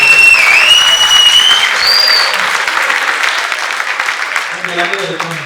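Audience applause at a Tamil speech event, a dense wash of clapping that stays loud throughout with a few voices and whistle-like tones over it, easing slightly toward the end.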